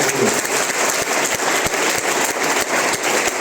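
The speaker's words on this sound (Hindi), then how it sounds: "श्रीमान सतीश सर के लिए जबरदस्त ताली।" An audience gives Satish sir a loud, sustained burst of applause at a gathering, dense steady clapping close and filling the room throughout.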